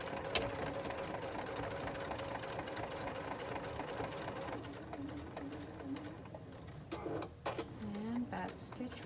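A sewing machine stitches a binder pouch with a one-inch seam allowance, a steady close whirring run that slows and stops near the end with brief restarts, while a voice talks over it.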